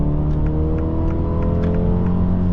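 A 2023 MINI Cooper Countryman S engine under moderate throttle in normal mode, a steady rising drone with layered harmonics heard from inside the cabin, loud and continuous with no talk.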